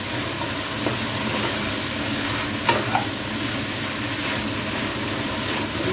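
Fried fish being stir-fried with herbs in a pan for a Thai pad cha, a loud continuous sizzle close by, broken by a couple of sharp spatula knocks.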